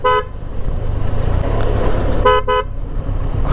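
A Benelli TRK 502 adventure touring motorcycle's horn, heard as one short toot at the start and then two quick honks near the end, loud and close over the bike's steady engine rumble and road noise.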